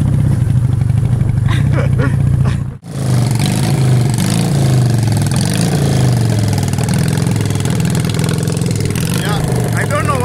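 A motorcycle engine in a Kenyan workshop, recently repaired after firing on only one side, runs loud and steady at close range. It cuts out briefly near the start, then carries on under people talking.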